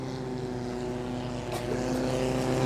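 A motorboat on a river in Cambodia drones steadily nearby, a buzzing engine holding a fairly constant pitch that swells slightly louder toward the end, with no voices over it.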